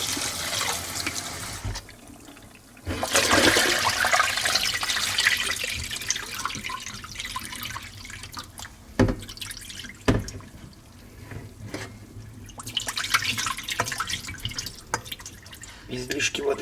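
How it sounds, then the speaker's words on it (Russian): Excess water is poured off salted fish in a home kitchen before smoking, with splashing bursts and trickling drips between spells of someone talking nearby. "излишки воды сольем."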